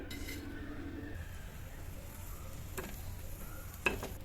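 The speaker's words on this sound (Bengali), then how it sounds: "এই যে চিংড়ি শুটকি যেটা সেটা সেটাও টেলে নিতেছি" Dried shrimp dry-roast in a hot pan, giving a faint sizzle with scattered scraping stirs and a couple of sharper clinks near the end, quiet and close.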